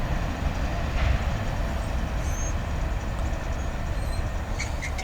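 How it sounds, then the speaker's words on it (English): A heavy CSX local freight train led by locomotive 5461 rumbles past southbound at Catawba, South Carolina, with continuous low-frequency roar and faint metallic squeals, close and loud throughout. "That was CSX local train F761 heading southbound."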